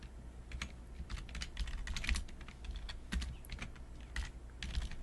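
Close, quiet keystrokes on a computer keyboard come in quick irregular bursts of clicks and taps, with no voice over them.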